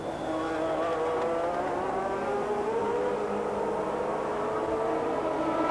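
A 1983 Ferrari Formula 1 car entering the pits during a race, its engine droning steadily with shifting pitch over a broad roar of track and crowd noise, loud and continuous.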